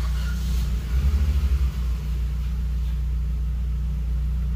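A car engine idles steadily after an intake manifold repair, a deep low rumble with a brief pulsing surge early on, heard close up in a workshop with no talking.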